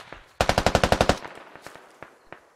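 A machine gun in the video game Squad fires a rapid burst of about ten loud, evenly spaced shots. Fainter scattered single shots follow in the background.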